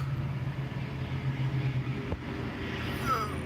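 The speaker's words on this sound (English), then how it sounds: "Here comes a bus coming in for a stop." A city bus pulls in to a stop on the street nearby, its engine giving a steady, close, low rumble with road noise throughout.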